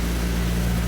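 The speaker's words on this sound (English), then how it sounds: "Rev it up for me." A K24 engine swapped into a Honda Civic EG hatchback runs with a loud, steady droning roar, close by and unbroken, with no talk over it.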